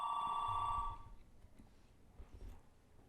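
A house telephone rings faintly in the background, one electronic ringing burst of about a second that cuts off, then quiet room noise.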